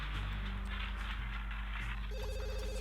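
A telephone in The Sims 2 video game rings with a warbling electronic tone, heard over game music and a low hum, with a brief melodic chime near the end.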